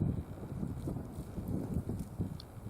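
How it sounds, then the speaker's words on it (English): Strong wind gusting to about 30 mph during a long snowstorm at roughly 15°F in mid-January, a steady low roar with buffeting gusts across the microphone, no voices. "Winds gusting 20, 25, maybe up to 30 miles per hour."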